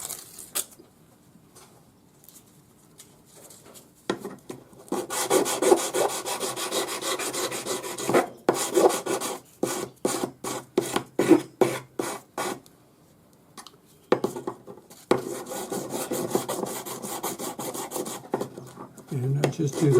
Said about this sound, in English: 400 grade wet or dry sandpaper on a sanding stick.